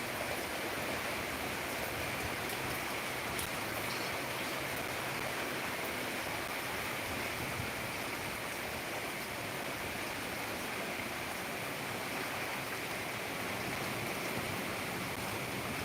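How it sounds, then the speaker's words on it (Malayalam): Steady rain falls in Palakkad, a dense, even wash of patter that holds at the same level throughout with no voices. "മഴയുണ്ട് മഴ ഇപ്പം ഇത്തിരി ഒന്ന് കുറഞ്ഞ്"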